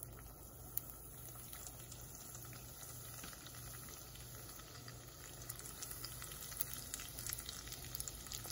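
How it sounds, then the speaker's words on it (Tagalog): Ham spring rolls fry in hot oil, giving a faint, continuous bubbling sizzle with a low steady hum beneath it and no talking. "So, nakasalang na ako ng mainit na mantika. Pwede na natin iprito ang ating parang turon."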